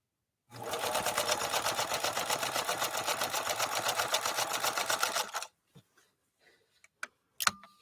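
A 1957 Adler-built Phoenix 283F sewing machine with an embroidery needle stitches zigzag through four layers of denim, a fast, even mechanical chatter running close for about five seconds, then stopping, followed by a few faint clicks and knocks.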